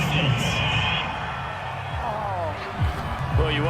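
A home stadium crowd in a Madden NFL 22 football game roars and whoops steadily after a late third-down penalty call, loud and continuous beneath commentators' voices.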